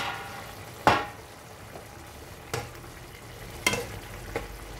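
Potato pieces frying in a pan in a home kitchen, a faint steady sizzle broken by a few sharp clacks and scrapes of stirring, fairly quiet and with no talking.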